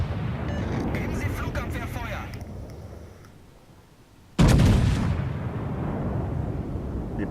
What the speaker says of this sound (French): premier coup de canon